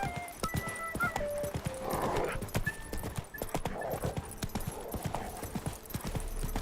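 Horse hooves clip-clop at a galloping pace in The Witcher 3, with a steady rhythmic beat and a brief whinny. Background music and ambient game sound play underneath.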